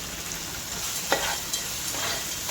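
Sandge, dried lentil dumplings, frying in oil with roasted dum masala, giving a close, even sizzling hiss broken by a couple of quick spatula scrapes.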